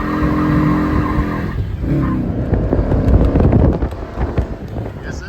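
A 1966 Mercury Comet Cyclone GT convertible burns rubber, its engine droning steadily before a loud surge of revving with rough tire noise and wind buffeting the microphone.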